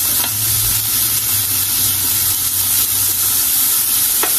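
Pork sautéing in a pan for pancit bihon gives a continuous loud sizzle and hiss, with occasional faint stirring scrapes and no talking.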